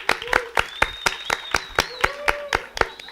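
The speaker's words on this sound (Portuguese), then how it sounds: "Então, por favor, uma salva de palmas para Vanessa." Applause at a youth pizza-night interview gathering in a Baptist church, with a few sharp claps standing out in a steady rhythm while a whistle-like tone slides in the background.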